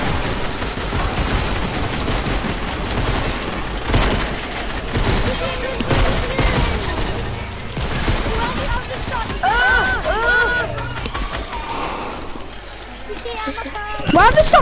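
Fortnite gunfire with rapid bursts of shots and machine-gun rattle crackling through most of the stretch, dropping off near the end, under near-constant excited talking from a player.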